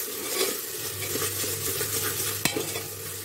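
Masala paste for Punjabi-style rajma sizzles and fries steadily in a pan while a spoon stirs it, with one sharp clink of utensil against the pan near the end.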